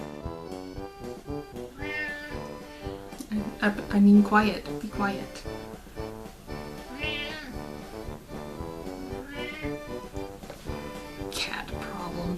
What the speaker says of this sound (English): Cat problems.